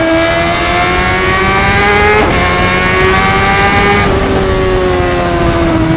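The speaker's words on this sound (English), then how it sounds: "I just love the tunnels so much, especially when you have an exhaust on your bike." Honda CBR600RR with an aftermarket exhaust revving inside a road tunnel, a loud, steady high-pitched engine whine with sharp harmonics that briefly shifts pitch as the revs change, echoing off the walls.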